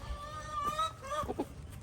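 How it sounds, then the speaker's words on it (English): Soft clucking from chickens at a distance, with turkeys nearby, a few low calls blending into faint background noise. "Look at all those chickens and turkeys"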